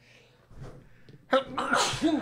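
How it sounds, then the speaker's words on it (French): A single sharp, close sneeze bursts out after a few quiet breaths, followed by a brief trailing exhale. "J'ai éternué."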